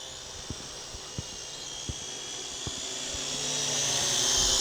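A Syma X8SW-D quadcopter drone flies with a steady high-pitched whine from its motors that grows slightly louder over a few seconds, with a few faint knocks early on; no voices.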